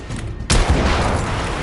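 A sudden loud sniper shot cracks in a Victorian-era shooter, The Order 1886, after a quieter lead-in, followed by a sustained rumbling, noisy tail of battle ambience.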